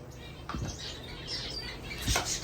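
Birds in an aviary give short chirps and a couple of quick wing flutters over a steady background hum, close and moderately loud.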